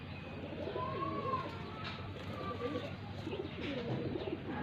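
Pigeons cooing among a small flock of newly bought birds, with soft repeated coos and wing shuffles over a steady background, close and moderately loud.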